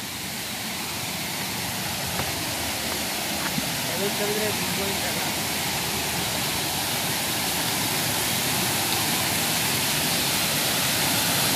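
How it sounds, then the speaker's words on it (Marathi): A wide waterfall in Konkan pours over rock, a loud continuous close-up roar with a faint voice briefly under it. "बघू शकता किती रुंद हा धबधबा"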